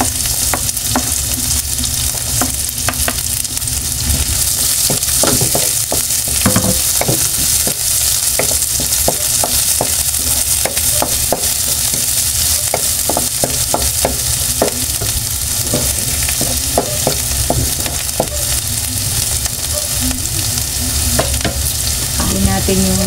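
Garlic and onion fry loudly in hot oil for eggplant adobo, a dense continuous close sizzle broken by frequent scraping stirs of a spatula against the pan, with no talking.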